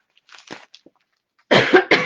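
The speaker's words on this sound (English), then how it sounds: "I can feel myself developing the need to cough" A person coughs: a few soft, muffled coughs and throat sounds early on, then two loud, close, harsh coughs in quick succession near the end.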